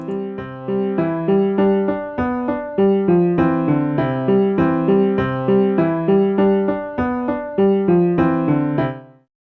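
A bright synthesized melody in SunVox plays a steady sequence of plucked notes at an even tempo, ending cleanly after about nine seconds.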